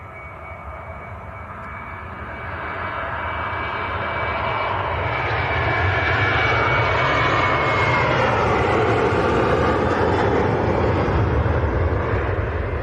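A Ryanair airliner's jet engines roar at Manchester Airport, a loud sustained broadband rumble and whine that swells steadily over several seconds as the aircraft moves, with no voices.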